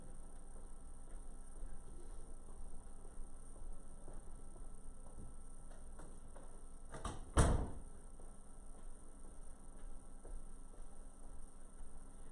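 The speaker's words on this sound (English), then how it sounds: "I'm going to shut the door really quick" A door is shut once in a quiet room, giving a single sharp thud partway through, with low room noise and no talk around it.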